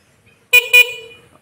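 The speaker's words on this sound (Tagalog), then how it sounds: "At busina tayo." Car horn honking twice in quick succession, loud and close, with the tone fading briefly after the second beep.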